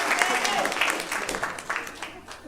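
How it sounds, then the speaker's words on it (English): Audience applause for a stand-up comedy act, a steady broadband clatter of clapping from a crowd that fades slightly over a couple of seconds, with some voices and cheers mixed in. "Everybody give a round of applause for Peggy."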